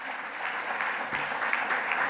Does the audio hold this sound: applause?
yes